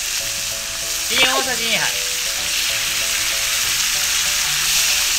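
Sliced onions simmer and sizzle in a pan with soy sauce, mirin and sake for an oyakodon sauce, a steady broadband frying hiss running throughout while a voice speaks briefly over it.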